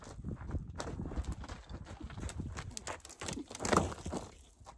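Hooves clip-clop on the ground as a stubborn horse moves during a training session, an uneven run of close, irregular steps with a louder burst near the end and faint talk in places.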